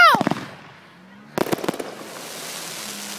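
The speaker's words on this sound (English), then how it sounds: "A car just pulled over the fireworks." Fireworks set off beneath a pickup truck crackle in a quick string of sharp pops, then a pause, then a second rapid burst of bangs fading into hiss.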